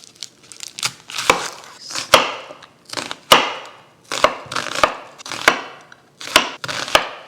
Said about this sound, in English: we're going to go in with 1 large onion. We're just going to chop it up into big bits